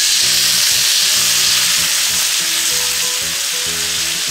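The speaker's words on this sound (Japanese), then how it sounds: "シャウエッセン焦げちゃいますんでね" Thick, extra-long Schauessen sausage steaks sizzle and crackle loudly in a frying pan with water added, a steady close frying hiss running throughout.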